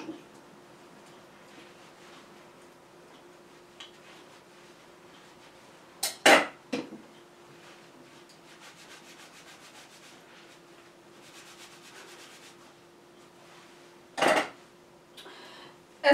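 Dishes and a spoon being scrubbed and rubbed by hand with almost no running water, a soft continuous rubbing under a faint steady hum, broken by a few sharp clinks and knocks of utensils.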